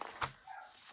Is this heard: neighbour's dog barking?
yes